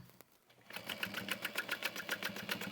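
A sewing machine top stitches the sides of a bucket bag, its needle running in a steady rapid rhythm after a short quiet start, close and fairly soft.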